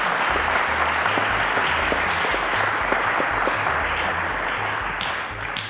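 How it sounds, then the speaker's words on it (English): A studio audience at a televised school quiz show applauds a contestant with dense, sustained clapping that fills the room, with a faint musical sting beneath, fading slightly at the end. "A round of applause to Nato."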